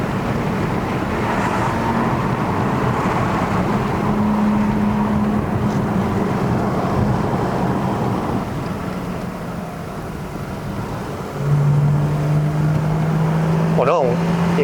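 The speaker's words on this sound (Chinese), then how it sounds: "我那种 inline six 声音" A BMW E90 325i Sport LCI with a naturally aspirated inline-six climbs a winding mountain road at Genting, its steady low engine drone holding throughout, with a rise in pitch near the end as it pulls harder; someone talks over it.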